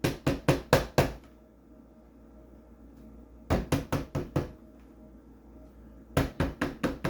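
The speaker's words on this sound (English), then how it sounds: "They just keep knocking." Repeated knocking on a castle door in the film Frankenstein, loud bursts of four or five sharp raps separated by pauses of near silence, recurring three times.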